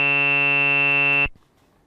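A Haken Continuum running the EaganMatrix synth holds a bright, buzzy complex waveform at 440 Hz, a loud steady tone rich in harmonics that cuts off abruptly after about a second and a quarter, leaving near silence.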